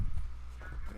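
Horse hooves clip-clop in the Red Dead Redemption 2 video game, a few close, heavy hoof thuds in quick succession, loud and alone.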